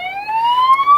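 Emergency vehicle siren heard for a brief moment, a clear rising wail with strong harmonics, loud and close, with no talk over it.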